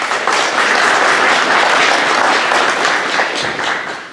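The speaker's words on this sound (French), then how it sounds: "Nous pouvons les applaudir." A congregation at a Catholic Sunday Mass in a Brossard parish church applauds the liturgy volunteers, steady dense clapping filling the room for about four seconds before tapering slightly at the end.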